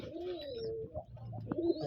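A pair of feather-footed pigeons coo softly up close in a short, quiet burst of low, rolling calls, with a faint higher chirp above.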